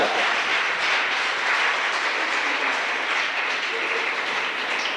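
Sustained applause from a large audience at a Hindi poetry gathering (kavi sammelan), a dense, even wash of clapping that holds steady without a break.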